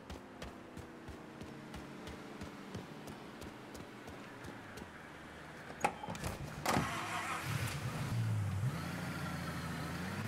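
A car starting up and pulling away in the video game Mafia 3, an engine note rising after a sharp start around the middle, over a steady low in-game ambience.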